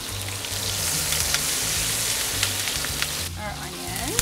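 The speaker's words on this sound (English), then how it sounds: "in all those yummy steak juices, we're gonna cook our" Onions and vegetables cooking in steak juices in a hot pan for fajitas, giving a steady close sizzle and crackle throughout, with a brief stir or clatter near the end.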